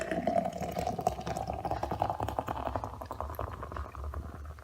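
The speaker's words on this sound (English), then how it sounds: "let's go ahead and give it my aggressive pour like I always do" Euphorious beer from Rochester Mills Beer Company poured aggressively into a glass: a close, steady gurgling splash with fizzing foam throughout the few seconds, with no talk.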